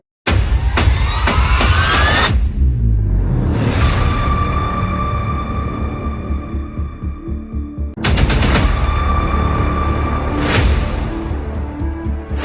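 Gunshots in a staged crime scene: loud, close bursts of rapid shots, then a long ringing reverberant tail and a second blast followed by more decaying echoes.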